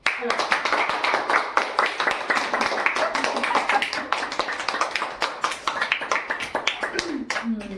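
A live audience applauding a singer and dancer at a cultural evening event, with many hands clapping in a dense, steady crowd patter that runs throughout before starting to thin near the end.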